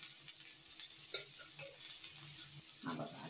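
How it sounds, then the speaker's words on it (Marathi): Onion frying in oil in a pan for a Malvani-style egg curry, a soft steady sizzle running throughout with a few faint stirring clinks. "भाजायला घेतलंय त्याला आता हे तेल घालावं लागतं. कांदा मग चांगला भाजून येतो."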